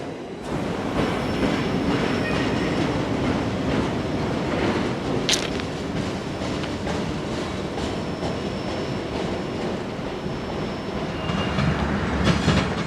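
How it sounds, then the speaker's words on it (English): A long freight train hauling automotive containers rolls steadily past at close range, a continuous heavy rumble and rattle with a brief metallic squeal partway through. "this train is also hauling a bunch of automotive containers"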